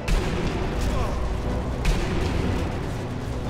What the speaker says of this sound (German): Hast du gerade eine Granate da geschmissen?